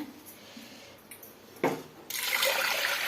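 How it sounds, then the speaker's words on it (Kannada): Water pours into a pot of rinsed lentils being set to cook, a quiet trickle first, then a sudden splash and a steady, louder rushing pour filling the pot, close by with no talking. "ಇಷ್ಟು ಬೇಳೆ ಮುಳುಗೋಷ್ಟು ನೀರು ಹಾಕ್ಬಿಟ್ಟು"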